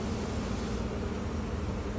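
A swarm of bees at a hive built inside the wall of a house in Miami, humming and buzzing in a dense, steady drone that fills the whole moment with no pauses.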